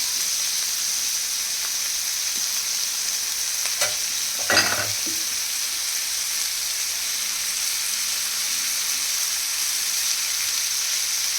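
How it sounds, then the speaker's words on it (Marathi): A chopped onion and a quarter kilo of wild chival greens fry in oil, giving a steady soft sizzle and hiss throughout, with a brief clatter of a spoon stirring the pan midway. "हे मध्ये कांदा पण भाजतो आणि बाजूने भाजी पण भाजते."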